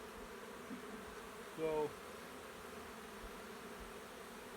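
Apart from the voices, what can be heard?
honey bees around hive box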